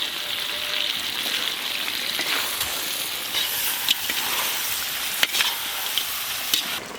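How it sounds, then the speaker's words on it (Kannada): Masala sizzles steadily in hot oil as egg-laying hen chicken fries in it, a continuous close frying hiss with a few faint clicks of stirring. "ಮೊಟ್ಟೆ ಕೋಳಿ ಚೆನ್ನಾಗಿ ಮಸಾಲದಲ್ಲಿ ಫ್ರೈ ಆಗ್ತಿದೆ."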